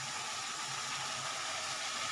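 Fried cauliflower and potato dropped into a hot spice paste for a Bengali katla fish curry, giving a steady, close hiss of sizzling oil that holds evenly throughout, with no talk.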